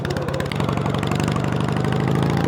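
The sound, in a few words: snow/mud mower engine accelerating in second gear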